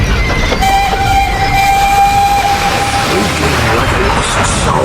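A train rumbles along the rails at close range with a long, steady whistle tone sounding over the loud, continuous clatter and roar.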